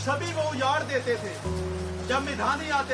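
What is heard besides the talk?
No everyday noises stand out.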